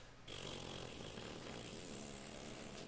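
A raspy, buzzing car engine with a loud aftermarket exhaust drones steadily at a distance, rough and noisy, faint and continuous with no voices.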